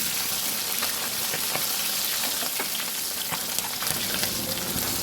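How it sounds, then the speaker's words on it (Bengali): Folui fish frying in hot oil in a kadai while being turned over, with a continuous close sizzle and faint scraping and clinking as the pieces are flipped. "মাছের এক পিট ভাজা হয়ে গেছে এখন উল্টে দেব"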